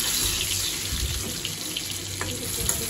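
Tap water runs steadily into a sink while leafy greens are washed, a close, loud continuous splashing rush with small shifts in the stream and no talking.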